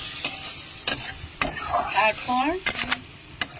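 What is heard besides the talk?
stir-frying masala for egg curry with splashes of water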